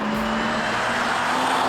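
Ford performance car engine running steadily, loud and close with a sustained droning tone and broad road or wind noise, no voices.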